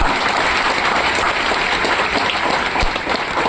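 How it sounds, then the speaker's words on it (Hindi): Loud, sustained applause from a large crowd, dense clapping filling the whole stretch with no break. "मैं चाहता हूँ एक बार उनके लिए जोरदार तालियां हो जाए।"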